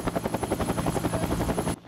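A helicopter's rotor chops in a fast, even rhythm, loud and close, with a steady engine whine throughout until the sound cuts off abruptly.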